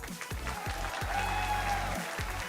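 Audience applause rings out at a comic con cosplay masquerade, steady clapping mixed with low thumping beats and a faint tone from the hall's sound system.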